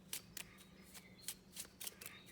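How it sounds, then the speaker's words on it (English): Magic: The Gathering cards being riffle shuffled by hand, giving a run of crisp, papery bursts at an irregular rhythm, close and quiet, with no talking. "We can also try to do our rifle shuffling like that."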